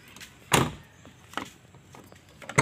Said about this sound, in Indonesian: Kemudian kita lihat pintu sliding.